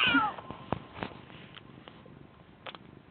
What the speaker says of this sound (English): there's a little cat.